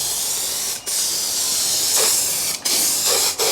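A spray can of black zinc paint hisses in long continuous bursts, broken by three brief pauses, close and fairly loud with no talking.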